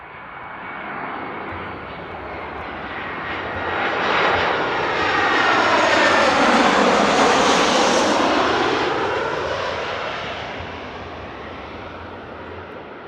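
A propeller airplane arriving at Frankfurt Airport approaches, roars loudest overhead, then slowly fades into the distance, its engine tone sweeping downward as it passes.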